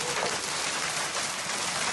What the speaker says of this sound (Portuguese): aí bateu na telha de metal, o primeiro fez um barulho muito grande, depois começaram a bater outros